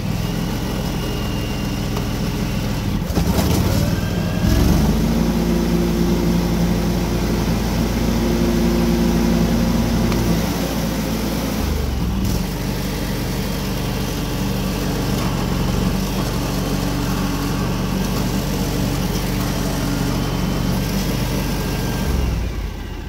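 A John Deere X728 4x4 lawn tractor engine runs steadily with its blades engaged, held at a higher throttle with a close, continuous drone and one brief surge in the middle, with no talking.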